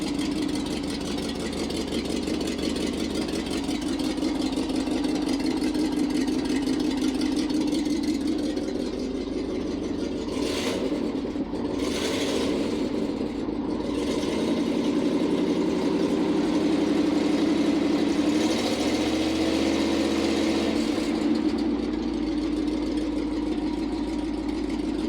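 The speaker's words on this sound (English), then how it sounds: "I think we've got a bit of an exhaust leak" A steady, low International ACCO 510A truck engine idles continuously with a rough, breathy rumble from an exhaust leak, close and unchanging, with slight shifts in tone partway through.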